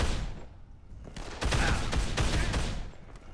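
Gunfire rattles in the zombie video game Dead Island, dense rapid shots in loud bursts that fill the whole moment.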